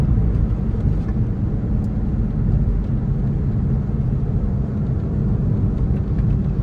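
The engine of a 2000 Porsche 911 Millennium Edition runs in a steady, heavy low rumble held at about 4,000 RPM, close and fairly loud, with no clear rise or fall in pitch.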